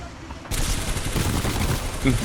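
Rapid gunfire bursts from the video game Titanfall 2, a dense loud fusillade starting abruptly after a brief quiet lead-in and continuing steadily throughout, with faint voice traces mixed in.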